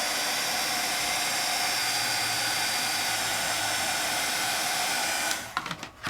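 A crafting heat tool blowing hot air to set embossing powder, a steady close hiss like a hair dryer running for about five seconds, then switching off with a few clicks and handling sounds.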